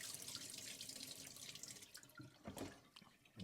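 Rice being washed under a running kitchen tap: a steady close stream of water splashes into a bowl with sloshing and dripping, the flow breaking up briefly near the end.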